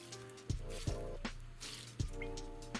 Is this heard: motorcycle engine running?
no